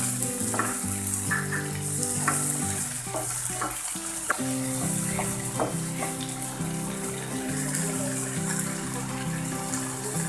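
Onions frying with tomato puree sizzle steadily in a pan for matar paneer, while a spoon stirs and scrapes now and then. The sizzle is dense, continuous and close, and no one speaks.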